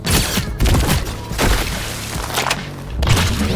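Heavy gunshots in the video game High on Life, several thumping blasts spaced over a few seconds, loud and close with booming low-end impacts.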